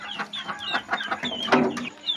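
Chicks feeding on grass give close, irregular clucks and high chirps in quick bursts, with no talk over them.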